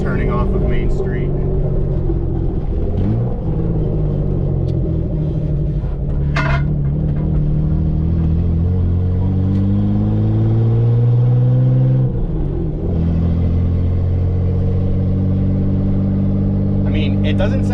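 Turbocharged BMW E36 sedan with the downpipe flange cut off, driving on a street: a loud, rumbling engine drone rising and falling with acceleration, carrying under steady talking from inside the car.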